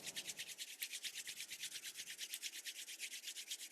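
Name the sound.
palms rubbing together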